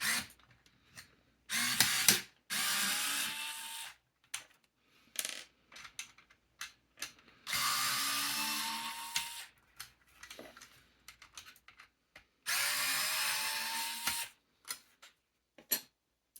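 Tools work on a Tamiya TT02 RC car with a Tamiya toolkit, giving intermittent bursts of close clattering and rattling separated by sharp clicks and short quiet gaps, with no voices.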